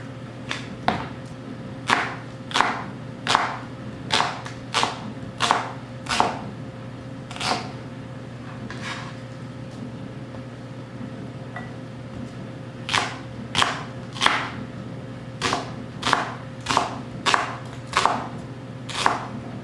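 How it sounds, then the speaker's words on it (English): A knife chopping through onion on a cutting board, a steady series of sharp thuds in two runs with a short pause between. "just cut your onion in half and then slice it."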